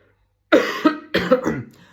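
Two harsh coughs in quick succession, close up, after a moment of silence.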